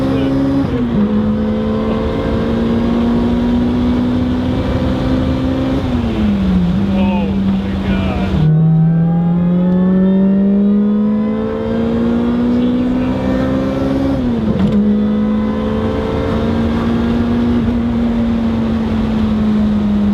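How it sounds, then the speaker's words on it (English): Supercharged Honda Civic accelerating hard from inside the cabin, engine note climbing steadily through long pulls with brief drops at gear shifts, loud and continuous with wind and road noise. "Mike's gonna take me for a ride in a supercharged Civic."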